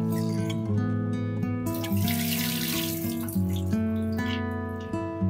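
Tap water runs steadily into a sink while halwa fish is rinsed clean, a continuous close splashing stream with small clinks and shifts in the flow throughout.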